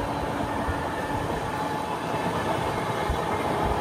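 The MGR Chennai Central–Visakhapatnam Weekly SF Express 22802 runs at speed past a skipped station, giving a steady, dense rumble and rattle of coaches heard from on board, unbroken throughout.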